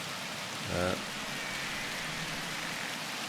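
Steady rain pours down in the video game 35MM, a dense, even hiss that fills the whole clip, broken only by a brief low buzzing sound near the start.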